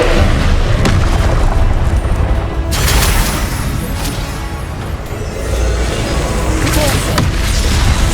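Heavy Confringo fire-spell explosions from Hogwarts Legacy gameplay on PS5, loud booming blasts rolling one after another over a constant rumbling battle din, with bigger bursts near the start, midway and near the end.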